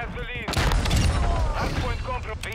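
Akimbo Basilisk pistols fire rapidly in Modern Warfare 2, a dense burst of loud, close gunshots, with game voices and background chatter mixed in.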